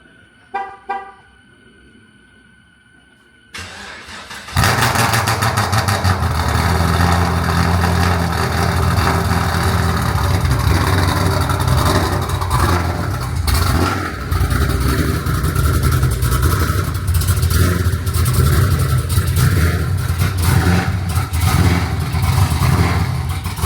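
A brief beep and a few faint clicks, then a car engine with a previously dead battery catches and runs loudly and steadily, close by, with a slight revving surge partway through.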